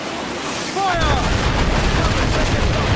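Pirate ship cannons fire in the Assassin's Creed Black Flag video game, a sudden heavy roar that starts after a brief quieter moment and then sustains as a loud, rumbling barrage.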